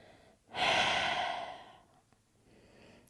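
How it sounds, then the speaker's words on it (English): A single long, soft exhale through the mouth during a yoga practice, close and breathy, rising sharply then fading over about a second, followed by quiet room tone. "Exhale through the mouth."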